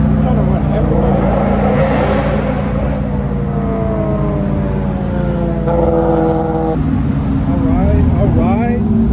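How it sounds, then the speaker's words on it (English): McLaren sports car accelerating away at a car meet, a loud, close engine rising in pitch through several gear changes amid crowd noise, with people talking over it. "McLaren right here. Come on, take off."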